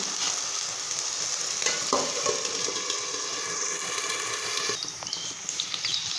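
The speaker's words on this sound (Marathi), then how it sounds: "दोन मिनिट आलू शिजवून घेऊ" Potatoes frying in a pan for sabudana khichdi: an even, close sizzle of oil with occasional light stirring and scraping sounds, and a brief louder scrape near the end, with no talking.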